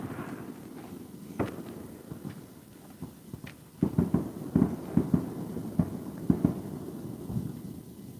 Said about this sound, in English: He must have spent a ton of money on fireworks because they all sound like they're coming from that same place still